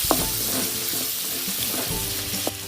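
Spices with a pinch of asafoetida frying in oil for mango rice give off a close, steady sizzle with several short scraping stirs and clinks of a spoon against the pan.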